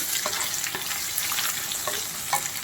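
Ridge gourd pieces fry in a pan with a steady close sizzle, broken by a few soft scraping stirs.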